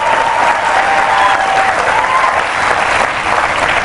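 A conference audience applauds the teachers with sustained, loud, dense clapping that stays even throughout.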